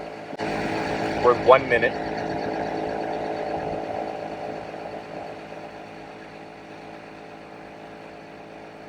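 A Gobege 12V heavy duty portable air compressor for a truck tire runs with a steady buzzing drone throughout, fading slightly toward the end, while a person talks briefly over it.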